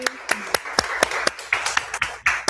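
A few people at a book launch clap, about a dozen sharp, separate claps spread over a couple of seconds, close and fairly loud, with no cheering.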